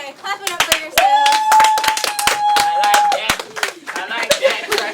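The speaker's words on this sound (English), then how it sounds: "clap it up for yourselves" Participants in a sip-and-dance class clap for themselves, a loose run of sharp, close handclaps under cheerful talk, with a sustained whistle-like tone running through the middle.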